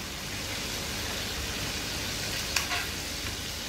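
Fish and tomato fry in a pan with a steady, close sizzle that holds level throughout, with one brief scrape or stir near the end.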